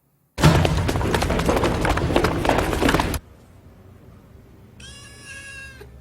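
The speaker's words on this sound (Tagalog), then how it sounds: "pwede po ba nating alagaan yung kuting?" A kitten meows several times, fairly close, after a loud burst of broadband noise that cuts off abruptly near the three-second mark.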